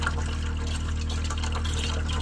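Tap water fed by a variable speed pump runs steadily into a sink, a soft continuous splashing flow with a low constant hum underneath and no speech.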